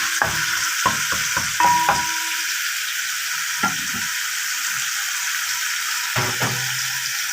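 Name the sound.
garlic frying and being stirred in a pan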